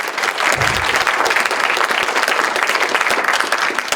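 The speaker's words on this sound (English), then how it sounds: "let's give a round of applause to our guests here." Dense, steady applause from a crowd, loud and continuous throughout with no pauses.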